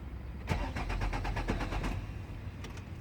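A 2002 Nissan Altima engine cranks with a quick series of rhythmic starter turns, close and moderately loud, then settles briefly before a couple of faint clicks at the end.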